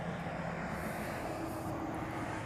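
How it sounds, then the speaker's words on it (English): A Hawaiian Airlines airliner arriving from Kona at a Hawaii airport gives a steady, fairly distant jet drone, a continuous broad roar that holds at an even level throughout, with no voices. "So this Hawaiian here is coming in from Kona"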